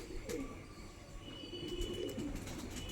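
Pigeons coo softly in a loft, low murmuring calls repeating under a steady background hum, faint and without talk.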